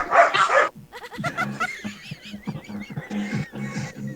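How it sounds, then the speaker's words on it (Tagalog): Several dogs bark nearby in quick, yappy bursts with some whimpering, loud and close, with no talking over them. "Ay, mga aso."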